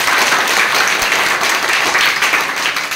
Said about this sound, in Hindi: एक बार जोर से ताली बजाइए तब बताएंगे